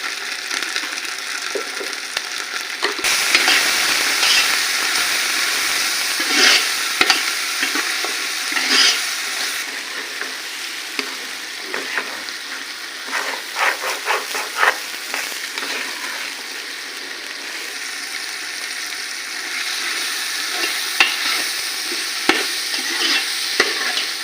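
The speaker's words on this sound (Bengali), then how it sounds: "জিরা বাটা রসুন বাটা এগুলি একটু ভেজে নিতে হবে" Cumin paste and garlic paste fry in a pot for beef khichuri, giving a continuous close sizzle broken by repeated stirring scrapes and clatters against the pot.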